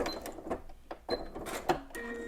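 Sewing machine back tacking along the same stitch line on a skirt vent, a few short mechanical bursts separated by brief pauses, close and moderately quiet, with no talking.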